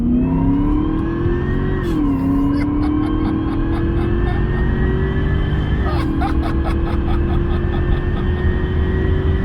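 Cadillac CTS-V accelerating hard on a highway, a loud, close engine note rising steadily in pitch with two brief dips at the gear shifts, over heavy road and wind rumble.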